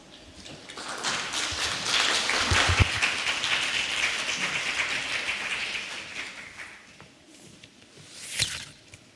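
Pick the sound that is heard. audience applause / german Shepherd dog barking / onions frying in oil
audience applause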